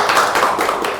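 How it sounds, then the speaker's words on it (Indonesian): Audience applause welcoming a guest cleric to a talk-show stage, a dense, steady burst of many hands clapping for about a second with no talk over it. "beri tepuk tangan buat Pak Ustadz Mahfud."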